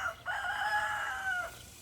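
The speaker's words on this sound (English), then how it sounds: "every time I get on here, this rooster got something to say" A backyard homestead rooster crows once in a long, drawn-out call that rises and holds before trailing off, close and loud with no talking over it.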